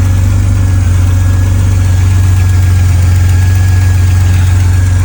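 A 1986 Pontiac Fiero GT engine idles steadily with a low, constant rumble and a faint airy hiss of an air leak above it, no talking, unchanging throughout.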